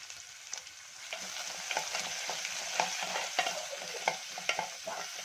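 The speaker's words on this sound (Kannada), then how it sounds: "ಇವಾಗ ಚೆನ್ನಾಗಿ ಫ್ರೈ ಮಾಡ್ಕೊಳ್ಳೋಣ" Chopped onions with crushed garlic frying in oil in a pan make a close, hissing sizzle, punctuated by regular spatula scrapes and clicks as the mixture is stirred.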